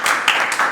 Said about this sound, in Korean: 저 박수 치셔도 됩니다